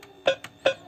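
An electronic keyboard's struck-bell voice, imitating a bell hit with a stick, sounds two bright ringing strikes with quick decays, separated by fainter short ticks, close and alone.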